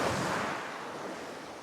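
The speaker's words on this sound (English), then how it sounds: "That might be why all the waves have started coming in." Shore waves rolling in near the top of the tide on a fishing beach, a steady broad wash of surf with light wind noise, no voices.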